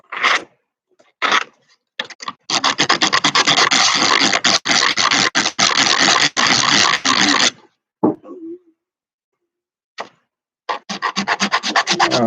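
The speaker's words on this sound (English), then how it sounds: "Sand this one a little bit down. Get off the edges." Sandpaper rubbed back and forth over the edges of a new wooden handle for a sliding door, a close, steady rasping run of strokes after a few short scrapes, then brief pauses and a final burst of quick strokes.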